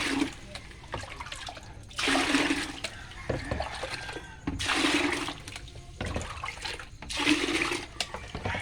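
Water pours and splashes into a basin in surges, several bursts of gushing liquid separated by quieter trickling and dripping, close by with no talking.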